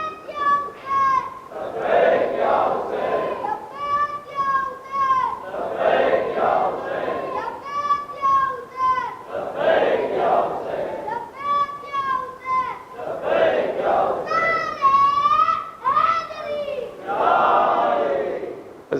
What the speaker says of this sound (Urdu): بچے نعرے لگاتے ہیں